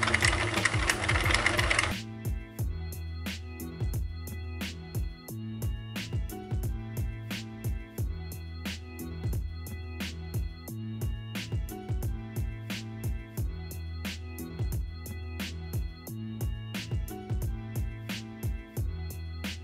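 An automated knitting machine runs with a steady mechanical clatter, regular clicking strokes repeating evenly throughout, close and continuous after a brief burst of louder noise at the start.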